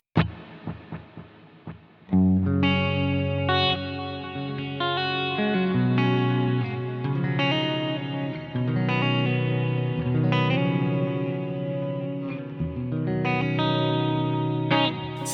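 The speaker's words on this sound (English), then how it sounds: "It's starting to come together in this sort of big ambient space. We've got 2 delays, big reverb there." Clean guitar through a BOSS GT-1000 with two delays panned left and right and a big reverb rings out in sustained, layered chords and notes, washing into a spacious ambient tail, with no talking.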